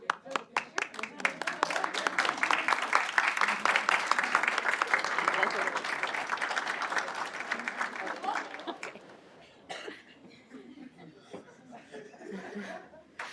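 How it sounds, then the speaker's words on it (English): Crowd at a university competition awards ceremony claps for the winning teams, a loud sustained burst of many hands with scattered laughter, then tapering to a few lingering claps. "Big round of applause"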